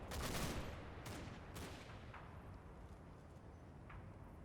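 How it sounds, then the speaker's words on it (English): Shells from an artillery barrage land in the Combat Mission: Battle for Normandy game. A few sharp distant impacts break through a continuous low rumbling roar, heard alone at a low level. "Sounds like the round's coming in for our barrage."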